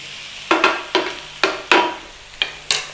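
Filling ingredients for Scotch pies sizzle in a frying pan as they are stirred, loud and close, with about six sharp scraping surges in an irregular rhythm.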